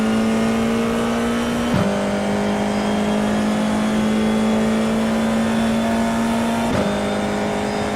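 An FIA F4 race car engine in the iRacing video game drones steadily at a high, constant pitch, with two brief shifts or dips in the tone, heard from outside the car and continuous throughout.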